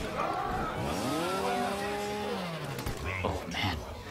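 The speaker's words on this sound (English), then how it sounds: "Those chainsaw noises? No, it's... They give me the chills, man." Chainsaw revving in the Mortal Kombat XL fighting game, a rising and falling whine that is steady and fairly loud, followed by sharp impact hits and crowd noise from the tournament.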